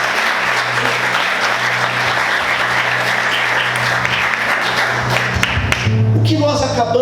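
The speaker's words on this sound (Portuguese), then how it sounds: "Vamos aplaudir Jesus bem forte." A church congregation breaks into loud, sustained applause for about six seconds, a dense wash of clapping that fades as a voice and music come in at the end.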